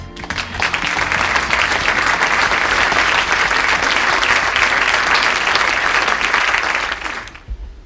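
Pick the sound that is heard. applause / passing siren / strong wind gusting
applause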